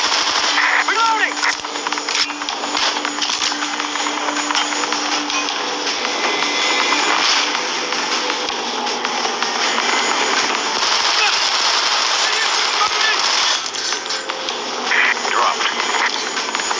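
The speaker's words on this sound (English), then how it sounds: "Lay down suppressing fire in their AO." Machine gun fire in the Call of Duty Strike Team mobile game, dense sustained automatic bursts mixed with explosions and battle noise, loud and continuous throughout, with voices shouting over the gunfire.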